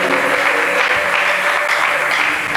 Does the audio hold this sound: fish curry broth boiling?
no